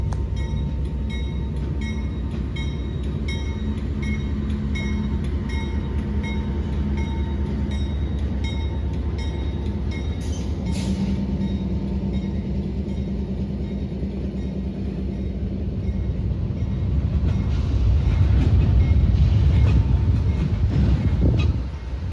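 A freight train rumbles steadily past at close range, a continuous low roar of rolling rail cars that swells louder toward the end as the train slows to a stop.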